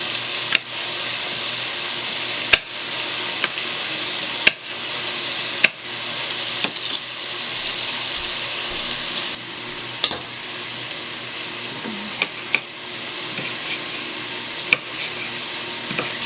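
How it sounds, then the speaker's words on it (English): Chopped bacon fries in a pan with a loud, continuous hissing sizzle, broken by a few sharp clicks and knocks from the pan, with no talking. "Won't take long for that bacon to cook down."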